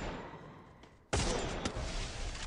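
Gunfire in a multiplayer shooter video game, a dense, continuous crackle of distant shots that jumps abruptly into a louder, closer burst of fire partway through.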